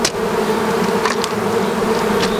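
Honey bees buzzing steadily around an opened, split hive, a dense continuous drone close by with individual bees passing near, no talking.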